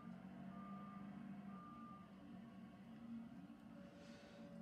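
A forklift's reversing beeper on a farm where wool is being loaded, repeating faintly and steadily over a constant low engine hum, with no talk.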